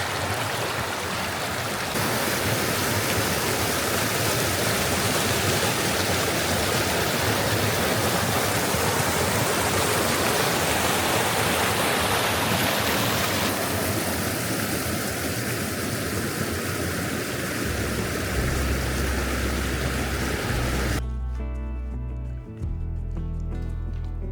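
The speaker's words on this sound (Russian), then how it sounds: "Дальше река с еще более бурным течением." The fast-flowing Shabartuyka river near Lake Baikal rushes in a steady, loud broadband roar throughout in autumn with early ice floes, with a low rumble joining near the end.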